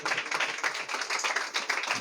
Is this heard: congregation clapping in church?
yes